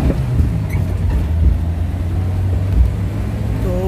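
A Maruti Gypsy converted to run on CNG pulls away and accelerates, its engine giving a steady, close, low rumble with a slight rise in pitch toward the end.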